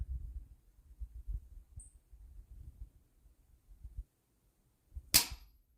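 A single sharp crack from a suppressed 6ARC rifle, likely an A-10 Warthog build, rings out near the end after a stretch of low rumbling handling noise and near silence, with no talk.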